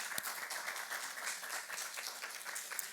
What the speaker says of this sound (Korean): 우리 감사의 박수를 해주시기를 바랍니다